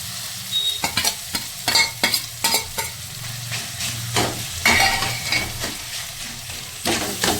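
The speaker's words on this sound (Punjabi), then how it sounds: "ਮਸਾਲੇ 'ਚ ਮਿਕਸ ਕਰ ਲਵਾਂ ਪਨੀਰ ਨੂੰ ਅਸੀਂ ਇਹਨੂੰ ਚੰਗੀ ਤਰ੍ਹਾਂ ਪਨੀਰ ਨੂੰ ਭੁੰਨਾਂਗੇ ਮਸਾਲੇ ਦੇ ਵਿੱਚ" Paneer is stirred and fried in a masala for paneer bhurji, a loud, close sizzle broken by repeated scraping and clinking of a spoon against the pan at an uneven rhythm, with no voices.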